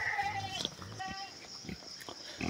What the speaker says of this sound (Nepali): यहाँदेखि चाहिँ हामी माथितिर सुँगुर आइरहेको छ।